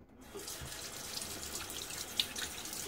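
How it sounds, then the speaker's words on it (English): Water running from a sink tap and splashing onto a face at a barbershop sink, a steady close wash with small splashes and no voices. "One more time with water on my face."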